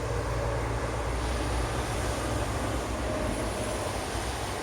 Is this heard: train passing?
yes